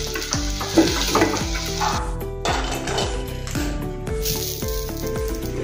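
Masoor and tuvar dal balls deep-frying in hot oil, with a continuous bubbling sizzle up close and music playing underneath.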